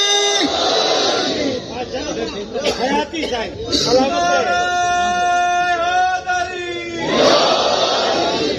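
A large congregation at a 13 Rajab religious celebration loudly chants the devotional slogan Haidari in unison, with rising and falling massed voices and shouting filling the hall.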